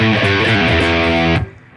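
Heavily distorted electric guitar riff, a quick burst of chunky chugging notes, loud and up close, stopping abruptly after under a second and a half.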